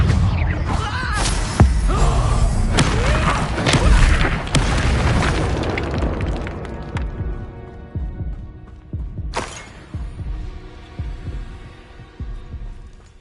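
Confringo fire spells burst in Hogwarts Legacy, with repeated heavy booms crowding together at first, then sparser impacts that thud and fade, and one sharp blast late on.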